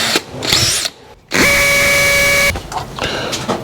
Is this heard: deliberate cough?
no